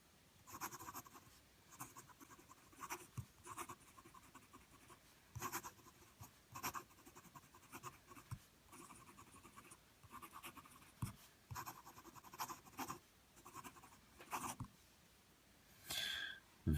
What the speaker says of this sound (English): Do a writing sample.